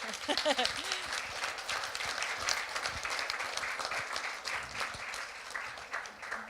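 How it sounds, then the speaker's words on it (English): Audience applause at a community green-building report evening in Beaver County, dense and steady clapping from a crowd filling the room at moderate level, with a brief voice near the start. "that just feels really good to have you actually applaud that"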